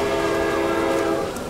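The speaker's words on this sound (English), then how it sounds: "Oh gosh, the train's coming!" A train rushes past in the game Brick Rigs, its horn blaring loud and steady over a rumbling roar, fading slightly at the end.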